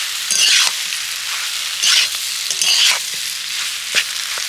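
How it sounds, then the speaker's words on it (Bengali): Potato is stirred with spices in a frying pan for aloo chop. A continuous oily sizzle is broken by several louder scraping stir strokes at irregular intervals, close and clear, with no talking. "খুব সুন্দর করে মশলার সাথে আলুটাকে মিশিয়ে নেব।"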